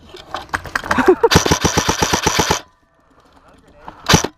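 A paintball loader fires at a paintball field in a fast, loud burst of rapid popping lasting about a second, then stops, with another short burst near the end. Voices can be heard around it.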